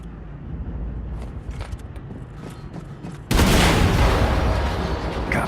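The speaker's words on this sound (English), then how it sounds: "Explosion in der Hangarbucht." A loud explosion bursts out in the Wolfenstein II video game, cutting in sharply over rumbling background noise and sustaining a broad, roaring wash that lingers for several seconds.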